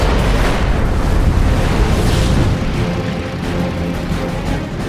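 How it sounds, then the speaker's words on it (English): Enemy plane's wing tanks bursting in World of Warships, heard as a loud, sustained rumbling explosion with roaring noise that slowly fades over several seconds. "Opens fire. and explodes the enemy's wing tanks."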